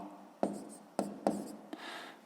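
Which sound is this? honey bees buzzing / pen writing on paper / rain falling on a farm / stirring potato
pen writing on paper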